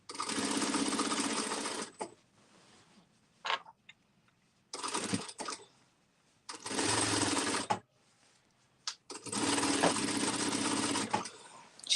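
An industrial straight-stitch sewing machine without a walking foot, used for free motion quilting a baby quilt, runs in loud bursts of rapid stitching that stop and start, with quiet gaps holding brief talk.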